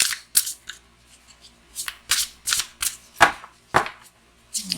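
A deck of tarot cards being shuffled by hand in a series of short, crisp riffling bursts with brief pauses between them, close and fairly loud, with no talk.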